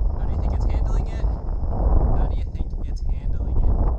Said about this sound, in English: This is what the ANC sounds like in a simulated windy environment.